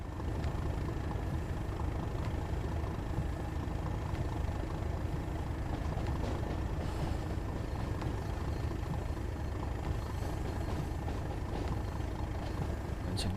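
A train engine in the video game Train Sim World 2, running as a steady, close, low diesel rumble that holds constant throughout without speech.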